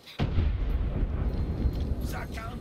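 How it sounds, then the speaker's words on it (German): An explosion in the video game Far Cry 6 bursts suddenly and loudly, followed by a rumbling roar that lingers with crackling debris for a couple of seconds. "Diese Explosion geht nicht auf mein Konto, die zu hören war"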